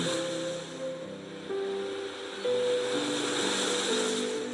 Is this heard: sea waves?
yes